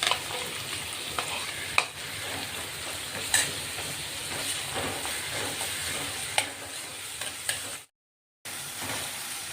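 Garlic-ginger paste fries in hot oil for a potato curry, a continuous close sizzle with occasional sharp spatula scrapes and clicks, briefly cut to silence near the end.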